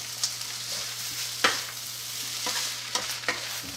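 Vegetable fried rice being stir-fried in a wok, with a steady hiss of frying under a few sharp scrapes and clacks of the spatula digging and lifting the rice.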